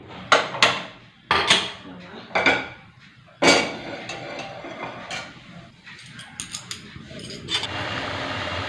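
A frying pan is set down on a stove in a home kitchen with several sharp metallic clanks and knocks in the first few seconds, then softer scraping and clinking handling noises, with no voices.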